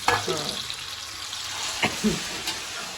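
Onions frying in a home pan for aloo roti, a steady broadband sizzle with a few brief stirring clinks and scrapes, close and continuous with no talk.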